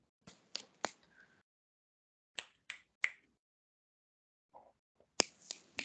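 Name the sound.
finger snapping, three snaps up in Z formation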